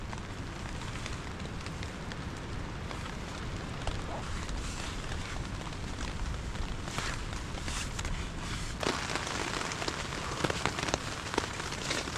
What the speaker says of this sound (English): The rain is really coming down.